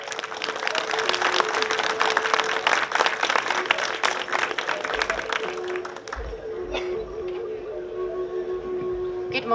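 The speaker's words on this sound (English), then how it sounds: "ladies and gentlemen, big round of applause for Natasha Brokeshoulder" Audience applause at a regalia showcase, a dense burst of clapping that fades gradually toward the end, with brief voices underneath.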